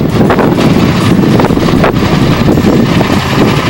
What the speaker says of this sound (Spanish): Se escucha el sonido del viento patagónico.